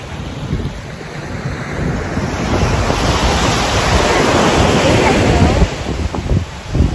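Sea waves breaking and washing up on the beach at Riu Cancun, Mexico, a steady, loud roar of surf building and holding throughout, with gusty wind buffeting the microphone.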